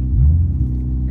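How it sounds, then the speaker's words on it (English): A supercharged Honda Civic of about 400 horsepower sits at a drag strip, its engine giving a steady, loud low rumble close by that swells slightly early on and then holds. "next up is a supercharged Civic."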